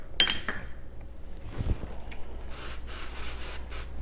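A Nano Hone diamond groomer is rubbed across a 1000 grit diamond whetstone, giving soft, close scraping strokes in irregular bursts, with one sharp click near the start.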